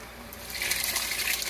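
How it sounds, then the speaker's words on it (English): Vegetable soup pours into a pot of homemade stock, a steady close gush of liquid that swells after a moment and keeps flowing. "now we're adding our vegetable soup"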